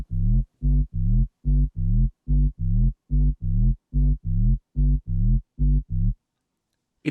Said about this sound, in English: Next we have our bass line that sounds like this.